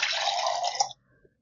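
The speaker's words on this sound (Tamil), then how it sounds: "இதுக்கு தேவையான தண்ணி ஊற்றிடணும்" Water poured into thick homemade curd to thin it into spiced buttermilk, a steady splashing pour for just under a second that stops abruptly, followed by quiet.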